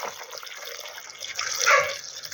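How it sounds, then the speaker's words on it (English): Water runs from a tap into a container while it is topped up to level during whetstone sharpening, a steady splashing rush that swells louder near the end. "adding water until it's level"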